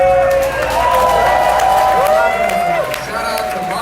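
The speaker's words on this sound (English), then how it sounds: "Let's clap it up." Live podcast crowd in Washington DC clapping and cheering continuously, with whoops and voices mixed into the dense applause.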